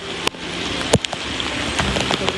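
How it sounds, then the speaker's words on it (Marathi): Monsoon rain pouring outdoors, a dense steady hiss of falling water with a few sharp drips and taps close by, loud and continuous. "आता पाऊस पडायला लागलाय"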